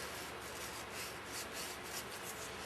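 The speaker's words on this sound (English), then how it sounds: "Take our scuff pad again, get it in there," A scuff pad rubs and scrubs inside a Meyer E 47 snowplow hydraulic part during a rebuild, a continuous close gritty abrasion with a gently pulsing back-and-forth rhythm, heard alone.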